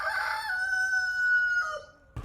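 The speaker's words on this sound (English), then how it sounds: "Chicken" A rooster gives one long, clear crow that holds steady and then trails off, heard alone outdoors at a spot where mallards and other birds gather in the Xinjiang desert region.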